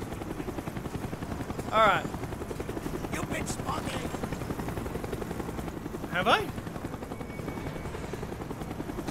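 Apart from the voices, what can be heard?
helicopter in Call of Duty: Black Ops video game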